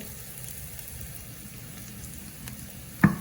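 Onions sizzle steadily in a pan for a chicken curry as spice powder is added, giving a soft, even frying hiss that ends with a short louder clatter of stirring.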